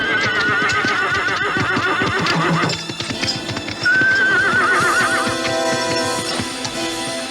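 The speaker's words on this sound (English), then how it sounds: "their horses were suddenly spooked" Spooked horses whinny loudly near a creek bed, high shrill neighs rising over rapid, busy clip-clopping hooves and thumps, with a long whinny midway through.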